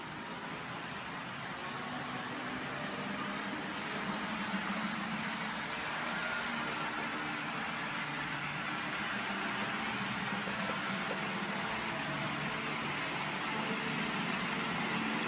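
A model CNJ Baldwin DR-4-4-1500 "Babyface" locomotive pulls a string of cars around a layout, giving a soft, steady motor whir with a faint high whine, smooth and unbroken throughout.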